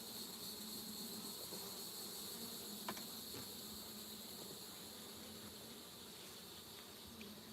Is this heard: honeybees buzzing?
yes